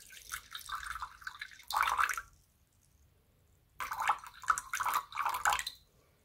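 Liquid is poured onto a kitchen scale in two careful streams, each about two seconds of splashing trickle, separated by a short silence.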